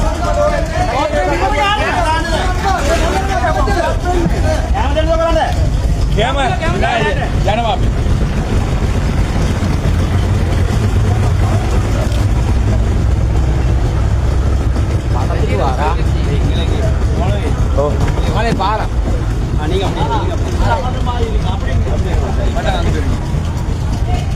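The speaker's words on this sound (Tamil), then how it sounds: "முன்னால் ஒரு போட் சென்று கொண்டிருக்கிறது" A boat motors forward through floodwater during a rescue in Sri Lanka, its engine a constant low rumble with wind buffeting, while people talk over it throughout.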